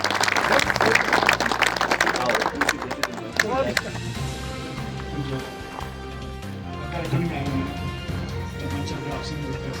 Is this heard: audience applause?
yes